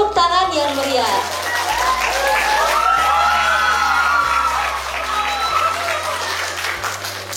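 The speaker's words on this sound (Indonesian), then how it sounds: "Beri tepuk tangan yang meriah." Loud audience applause and cheering at a young entrepreneurs' seminar, a sustained roar of clapping with whoops, while music plays over it throughout.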